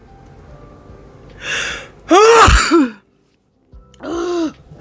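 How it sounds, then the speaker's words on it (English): A sharp gasping intake leads into one loud, explosive sneeze, then a brief silence and a second throaty exhale, close to the microphone. "I'm gonna sneeze."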